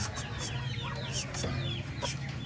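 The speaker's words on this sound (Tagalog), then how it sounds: "pinakamaganda rooster yan o oh" A rooster in a Filipino coop setting gives short, repeated clucks and chirping calls over a low steady hum, fairly close, with no talk during the calls.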